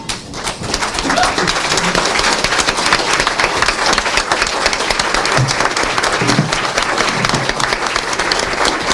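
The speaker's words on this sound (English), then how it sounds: "giving a large round of applause to" Large standing audience at an honorary doctorate ceremony for Nepal's Prime Minister K P Sharma Oli breaking into sustained, dense applause, loud and continuous throughout with a faint voice or two underneath.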